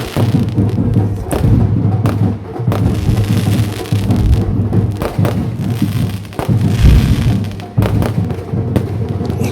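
Continuous loud fireworks at an annual temple chariot festival, rapid overlapping bangs and deep thuds rolling together for several seconds, near and relentless, with no clear speech.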